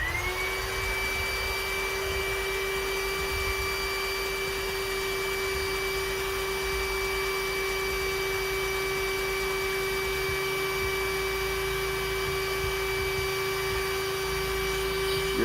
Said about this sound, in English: I'm going to put it right onto our pump and get it going.